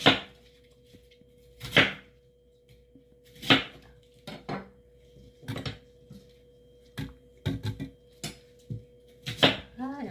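Knife slicing a medium onion, cut into quarters, on a board: scattered sharp cuts and clacks in irregular bursts, close and fairly loud, with no talk.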